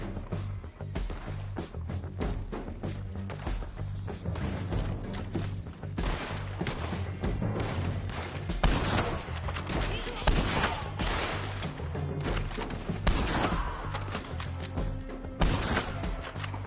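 Heavy gunfire in Red Dead Redemption 2, a dense, continuous fusillade of overlapping shots with a steady low rumble beneath and occasional voices mixed in.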